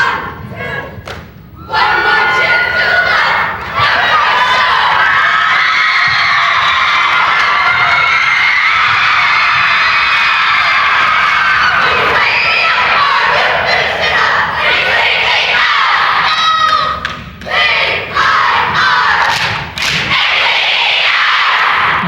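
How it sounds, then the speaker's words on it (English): A crowd cheers and yells at a 1999 competitive cheerleading finals, a roaring, continuous mass of shouting voices with sharp thuds from the routine cutting through, loud and sustained nearly the whole time. "Hear that crowd support."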